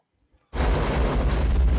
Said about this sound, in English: The place has a massive explosion.